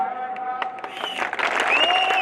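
A crowd at a Congress party campaign rally in Punjab claps to welcome Sachin Pilot. Amplified tonal sound opens the moment before broad, loud applause swells up and continues to the end.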